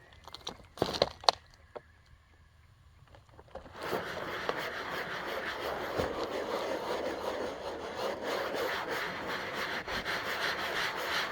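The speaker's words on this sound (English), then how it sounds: "the dollar store scrub brush seems to be working pretty well" Dollar store scrub brush scrubbing a Jeep XJ headliner, a few sharp brushing strokes and then continuous close, rough scrubbing that carries on steadily to the end.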